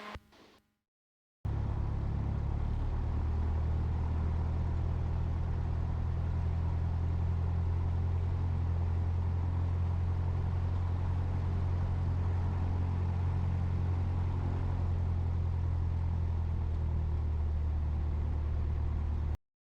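A Piper Warrior II light aircraft engine drones loudly and steadily during departure, a deep continuous rumble heard from inside the cabin after a brief silence at the start.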